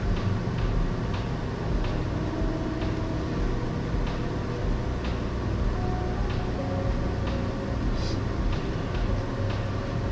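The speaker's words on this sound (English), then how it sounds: "You may hear a little noise in the background. I've got my space heater on down here today." A space heater running in a basement, giving a steady, even whir of broadband fan noise that holds at a constant level throughout, with no talking.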